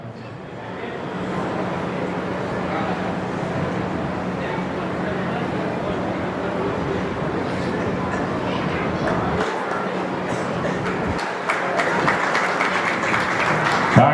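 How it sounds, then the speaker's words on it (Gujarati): A hall audience at a Rana Samaj appreciation event clapping steadily and loudly for a long stretch, an announcer's voice coming through over the applause. "તાળી પાડતા રહો, તાળી."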